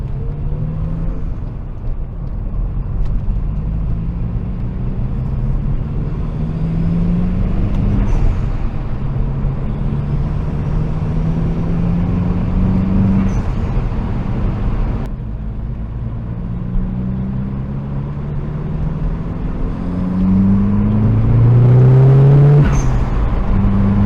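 A Saab Trionic 7 car engine idles and revs close by, rising and falling through several throttle blips with a steady low rumble underneath and a louder rev toward the end.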